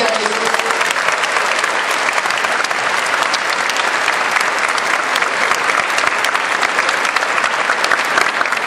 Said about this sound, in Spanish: Denle un aplauso bien fuerte